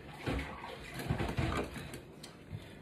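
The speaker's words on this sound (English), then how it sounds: "I'm going to use this spatula to stir this because it just really does" A spatula folds and stirs a thick peanut butter pie mixture in a bowl, giving close, soft squelching and scraping pulses in an irregular rhythm.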